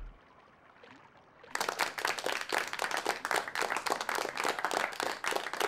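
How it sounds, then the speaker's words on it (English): A small group clapping for an unearned win, starting abruptly after a quiet moment and continuing as dense, steady applause with no talk over it. "Hey, no clapping."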